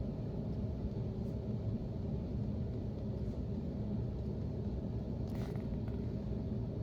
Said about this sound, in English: there's a garbage truck outside